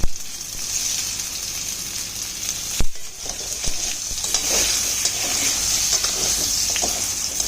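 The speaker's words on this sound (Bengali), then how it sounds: "এবার কড়াইতে সামান্য আর একটু তেল দিয়েছি, দিয়ে এবার আমি পটলটাকে ভেজে নেব।" Pointed gourd sizzles steadily in hot oil in a wok with salt and turmeric, a loud continuous fry broken by stirring scrapes and a sharp clack near the start, with no talking.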